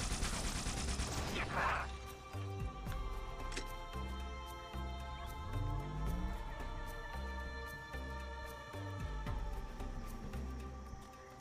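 Gunfire and mechanical weapon sounds from the Halo: Spartan Assault video game, a burst of rapid shots followed by clattering, ratcheting game effects at a moderate, steady level.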